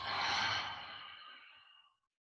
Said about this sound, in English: Breathe in your new moon intention. Breathe out